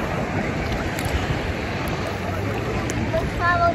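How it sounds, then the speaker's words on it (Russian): Sea waves roll in at a summer beach in Lazarevskoye, a steady loud wash of surf with wind buffeting the microphone throughout, swelling slightly toward the end. "Сейчас волна придет."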